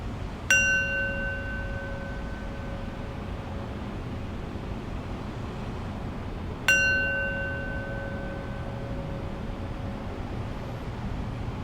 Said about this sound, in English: as I'll close practice with 3 rings of the bell.